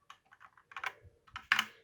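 Keys tapped on a Cooler Master CK550 V2 mechanical keyboard, a quick irregular run of close, crisp clicks building into denser, louder strokes near the end, with no talking.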